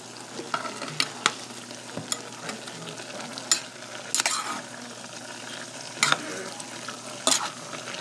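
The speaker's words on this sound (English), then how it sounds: "So I'm stirring my string beans" String beans are stirred in a pot on the stove, soft sizzling under scattered scraping and clinking of a spoon against the metal, close by with no one speaking.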